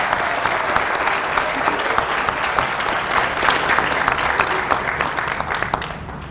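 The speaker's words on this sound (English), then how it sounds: "Let's give Bailey a round of applause" A school assembly audience claps steadily and loudly throughout, a dense even wash of applause that fades slightly at the end.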